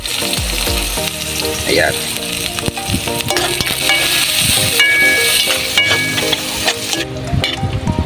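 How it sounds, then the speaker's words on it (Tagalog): Onion sautés in a pan for pininyahang manok, a loud close sizzle crackling throughout with scraping stirs and clinks, while a voice briefly speaks over it. "Magigisa tayo ng sibuyas."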